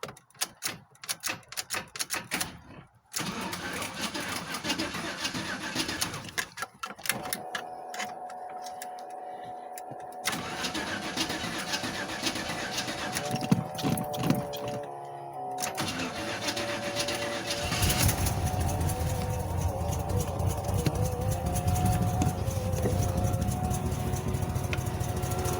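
A carbureted 1984 GMC S10 pickup engine with an Edelbrock carburetor is cranked cold after sitting a long time, starting with rapid clattering cranking, catching, then settling into a rough, loud idle that rises toward the end.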